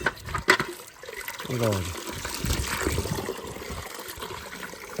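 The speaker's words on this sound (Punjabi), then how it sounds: "ਮੈਂ ਕਿਹਾ ਥੋੜਾ ਪਾਣੀ ਇੱਧਰ ਲਾ ਦਈਏ" Water pours from a village tubewell for a duck to drink, a steady outdoor splashing stream after a brief clatter, with a person speaking close by at the start.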